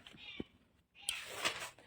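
A house cat meows indoors, two short close cries separated by a brief pause, the second brighter and longer.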